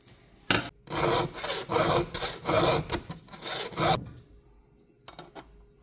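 Steel file rasping across chainsaw chain teeth during sharpening, several firm back-and-forth strokes in a steady rhythm, close and fairly loud, then a short quieter pause with a couple of faint scrapes.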